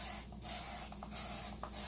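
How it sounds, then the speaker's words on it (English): Cooking oil sprayed onto a partly cooked spatchcock chicken, three short hissing bursts from an aerosol can close by, with no talking. "Give it some spray with some oil."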